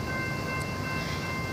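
Amtrak passenger train passing close by, a loud continuous rumble and rushing roar with a steady tonal hum throughout.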